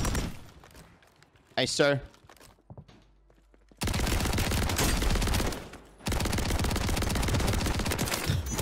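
Automatic shotgun fire in Call of Duty on Rebirth Island, two long sustained loud bursts of rapid shots after a brief spoken exchange and a short quiet pause.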